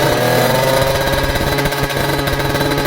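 A Toyota car engine runs steadily, loud and close, with a constant rattling hum and mechanical clatter and no voices.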